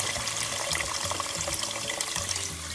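Steady rush of about four cups of water pouring into a cooking pot, continuous and fairly close, with a low rhythmic hum underneath.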